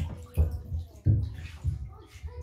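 Water sloshing and splashing in a home bathtub as a small child of two to four dips nose and mouth under the surface, with a few soft close splashes and low gurgles spread over a couple of seconds.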